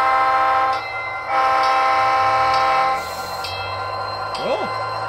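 Two long blasts of a model diesel locomotive horn sound loudly over a steady engine hum, followed by quieter rumbling and clicks.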